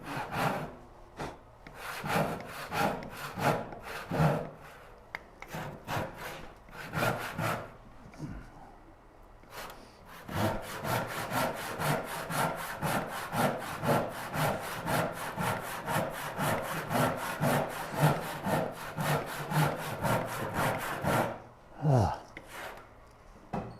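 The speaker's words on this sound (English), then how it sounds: "What's going to be fun is the long rip cut that I got to do here soon." A hand saw rips a long cut along a wooden board for a Moxon vise, with steady back-and-forth strokes close up, a brief pause near ten seconds, then a long unbroken run of fast rhythmic strokes.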